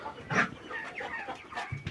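Chickens cluck and squawk in several short, overlapping calls, fairly close, with a steady busy background throughout.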